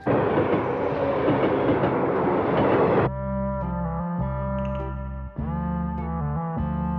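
A cartoon train in the Ninja Hattori series pulls in, a loud broadband rumble for three seconds giving way to sustained tonal horn or whistle notes with a brief break, no talk.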